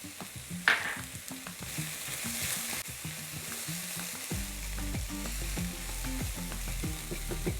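Cauliflower rice seasoned with kosher salt sizzles steadily in a hot pan while being stirred, a continuous close frying hiss with soft scraping, over tonal background music.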